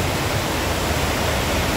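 The Ipanema river at Santana do Ipanema, Alagoas, swollen by rain, rushes under strong pressure through seven open dam gates. It makes a steady, loud, close roar of water with no break and no voices.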